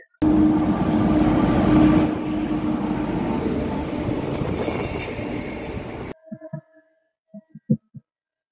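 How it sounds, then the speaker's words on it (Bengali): Howrah–Rampurhat Shahid Express pulling into a station: a loud, steady rumble of rolling wagons with a squealing wheel tone for about six seconds, then it cuts off, leaving a few faint, scattered knocks. "তো আমাদের ট্রেন এই মাত্র আসলো।"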